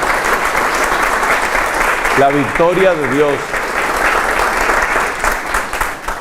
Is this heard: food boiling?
no